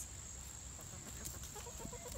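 Backyard chickens cluck softly amid a steady wash of outdoor background noise, with faint, scattered calls over roughly two seconds and no talking.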